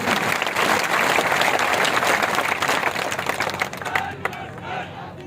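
A crowd at an Indian election-nomination gathering claps to welcome a former MLA, loud, dense applause that thins and fades out over the final second.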